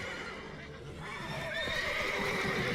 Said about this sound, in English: God, these horses are really loud.